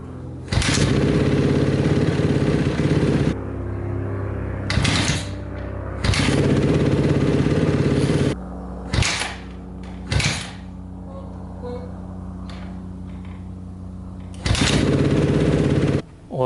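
A 2010 Honda CRF250R dirt bike with a freshly changed spark plug is kick-started several times, catching into loud rough idling bursts that cut off between attempts, with quieter gaps of clattering and shuffling.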